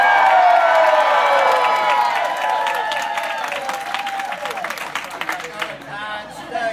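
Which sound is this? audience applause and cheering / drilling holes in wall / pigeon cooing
audience applause and cheering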